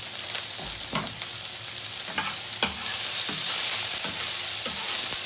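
Chopped onions sizzle and fry in a pan with a steady hiss, broken by several sharp stirring scrapes and knocks at irregular intervals, close and fairly loud with no talking.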